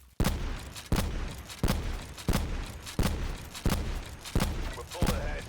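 Outlaw bolt-action sniper rifle in a Call of Duty game fires seven sharp, loud shots at roughly even intervals, each crack followed by a short echoing tail.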